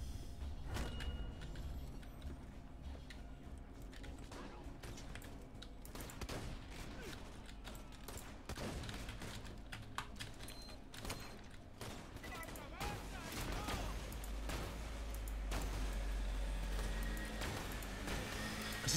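Rapid bursts of video game gunfire in Borderlands 2 crackle throughout, dense and continuous with sharp transients, under a steady layer of background game noise.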